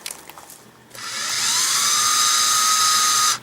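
An electric motor on a fifth wheel trailer landing jack, freshly cleaned and regreased, whirs up after a quiet start and runs with a smooth high-pitched whine for about two and a half seconds before cutting off.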